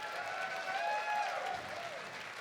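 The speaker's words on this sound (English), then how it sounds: "So give them a round of applause too." At a furry convention variety show, an audience claps in a steady, moderately faint stretch of applause under a sustained musical tone.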